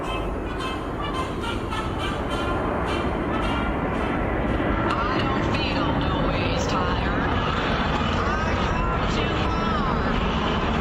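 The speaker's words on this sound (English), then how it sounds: "a plane was circling over when I was playing the clip" A steady, broad roar of an aircraft passing overhead, continuous and fairly loud throughout, with faint rumbling texture.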